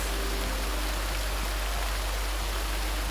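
Steady, dense white-noise roar of a waterfall in the snowy Alps, rushing water heard continuously and fairly close with no voices.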